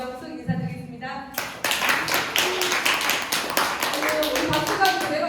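Audience clapping at a business seminar after a speaker's introduction, sharp hand claps that start softly, then swell into dense, close, energetic applause over a few seconds, with brief talking at the start.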